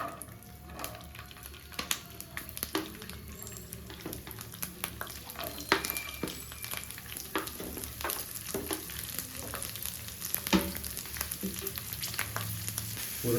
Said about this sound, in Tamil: முதல்ல பூண்டு ஆட் பண்ணிக்கலாம்.